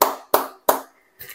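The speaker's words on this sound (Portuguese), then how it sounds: "Eu bato palmas para você." Three sharp hand claps from a single person in quick succession, close and fairly loud, followed by a softer fourth clap at the end.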